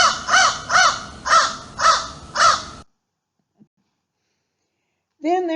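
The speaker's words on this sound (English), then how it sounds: "everybody knows what the crow sounds like" Five loud, harsh crow caws in steady rhythm, close by, followed by silence and then the start of another bird call at the end.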